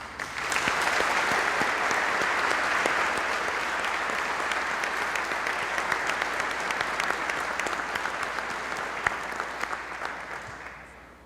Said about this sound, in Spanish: Brindemos un aplauso a los ciudadanos candidatos.